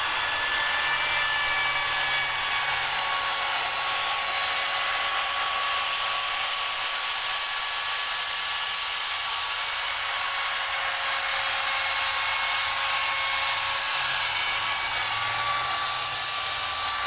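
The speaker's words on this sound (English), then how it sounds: "So I'm ready to round over all these edges, and then I'll flip it and do the other side to each and every one of these." A woodworking router rounds over the edges of wooden boards for a planer feed table and stand, a loud, steady, high-pitched whine that runs unbroken from start to finish with no one speaking.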